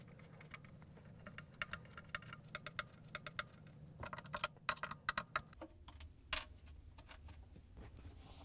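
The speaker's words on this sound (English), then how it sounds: "we're going to use the Torque 20 driver to take out all the screws that hold the gray plate in" A Torx T20 driver backs screws out of the gray plate inside a Whirlpool, KitchenAid or Maytag dishwasher, making faint, irregular clicks and ticks in quick clusters, with a few sharper snaps close by.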